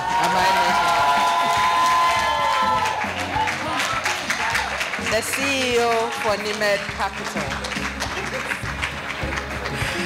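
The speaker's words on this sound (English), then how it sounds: "A big clap offering." Audience at the Ghana Women in Finance and Investment Awards ceremony in a hotel in Accra claps and cheers loudly, dense applause with whoops underneath a presenter's amplified voice speaking over it.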